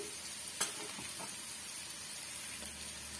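Ingredients sauté in a pan with tamarind, giving a steady low sizzle throughout, broken by a couple of soft clinks of a spoon near the start, with no talking.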